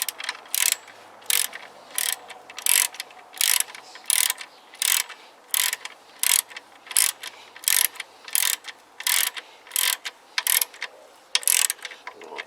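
Rapid ratcheting clicks from a torque wrench working on the back end of a Yamaha YBR 125 motorcycle, arriving in a steady run of about twenty short bursts, close and crisp, with no talking.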